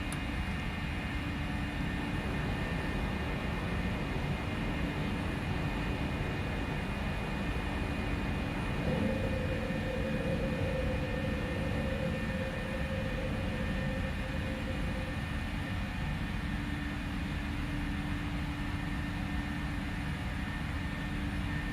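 A PMDG 737 takes off in the Prepar3d flight simulator, leaving Dallas Love Field for Houston Hobby. A steady, low jet engine roar with a faint whine holds throughout at a constant level, and no voices are heard.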